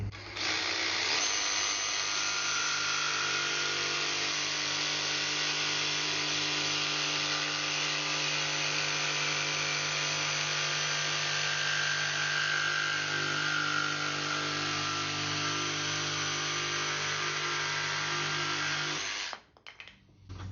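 A DeWalt DCS334 cordless jigsaw cuts a curve in wood, its blade buzzing at a loud, steady, continuous pitch for about nineteen seconds before stopping abruptly, with no voices.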